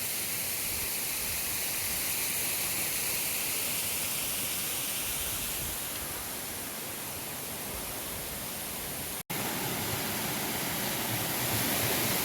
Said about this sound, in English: we are literally climbing down this waterfall.